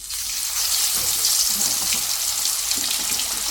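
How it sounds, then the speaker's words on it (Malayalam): Fish pieces sizzle and crackle steadily in hot oil in a cheenachatti (wok), a close, dense frying hiss that carries through without a break. "അപ്പോൾ അതാ ചീഞ്ചട്ടിയിൽ എണ്ണ ഒഴിച്ചിട്ടുണ്ട്. നമുക്കതിലേക്ക് ഓരോരോ മീനിനായിട്ട് എടുത്തിടാം"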